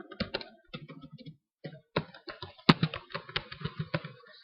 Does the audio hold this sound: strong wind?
no